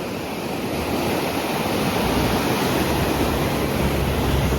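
Steady roar of sea waves washing onto the shore at Chinchani Beach, loud and continuous, with wind buffeting the microphone and no voices.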